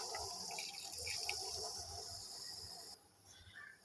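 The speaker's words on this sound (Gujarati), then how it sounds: "હમણાં હું એક કપ ગરમ પાણી ઉમેરી રહી છું" Hot water poured steadily from a cup into a pan of dhaba-style potato and pea curry, a continuous close splashing pour that cuts off near the end, leaving quieter bubbling.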